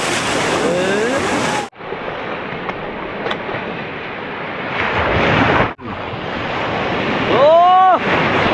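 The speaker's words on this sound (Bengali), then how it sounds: "ওরে বাপ রে, পেছনে ঢেউটা কি!" Large sea waves break and wash in the surf at Bagda beach in Odisha, a loud continuous roar with two sudden surges and wind buffeting the microphone, and a voice briefly calling out near the end.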